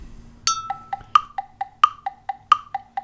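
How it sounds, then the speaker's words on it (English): A metronome ticks at an even tempo, with a higher accented click every few beats, crisp and close with nothing else around. "Here's our metronome."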